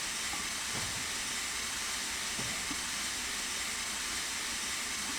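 A steam locomotive in Train Simulator Classic on the Somerset & Dorset Joint Railway, with its brakes applied while shunting into a siding. A soft, continuous hiss of steam and air runs throughout, with faint low rumbles and a couple of light knocks.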